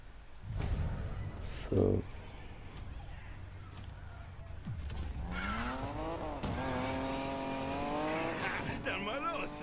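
A car engine in the video game Need for Speed Payback winds up through several gear shifts and climbs in pitch, with tire squeal and a brief loud burst early on, heard alongside a talking voice.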